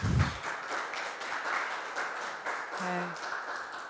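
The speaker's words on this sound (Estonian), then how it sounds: "Tegelikult meil on aplaus ka lubatud esinejatele." An audience at a parliamentary publication presentation claps for the speakers, a light scattered applause that carries on steadily at moderate volume, with a brief tonal blip partway through.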